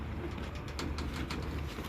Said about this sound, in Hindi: जेठ के उड़े हुए कबूतर दिखा रहे हैं जी,